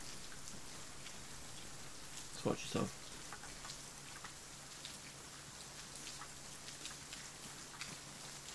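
Faint, steady rain hisses in the Arma 3 video game during a night mission in Fallujah, a soft continuous patter while someone speaks briefly over it.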